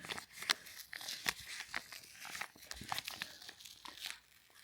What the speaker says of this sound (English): Let's open gift number 10.